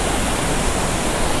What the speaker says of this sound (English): And this is called Jonha Falls.